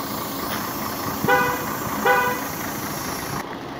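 A bus pulls up at a stop, giving two short horn toots about a second apart over steady road and engine rumble, with nobody talking.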